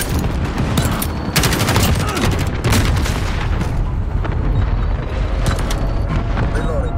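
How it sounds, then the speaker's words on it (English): Cluster strike explosions in Call of Duty: Modern Warfare, a dense, continuous barrage of loud booms and crackling blasts with heavy rumble throughout. "Enemy cluster strike incoming."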